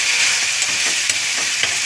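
Tomatoes and onions for a meal maker gravy sauté in a pan, a steady bright sizzle with a few soft stirring scrapes, close and alone.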